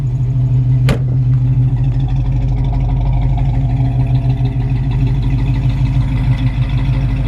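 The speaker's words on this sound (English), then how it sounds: "Nice clean sounding exhaust." A 1956 Chevy 3100 pickup idles close by with a clean, steady exhaust note and deep even rumble, one sharp click near the start, no voices.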